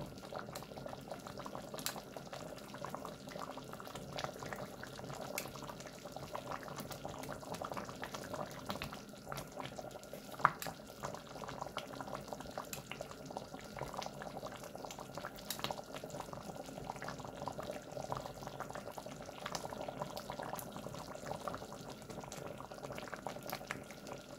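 Homemade tomato sauce boils steadily in a pot for winter preserving, a continuous bubbling and gurgling simmer heard up close with no talking.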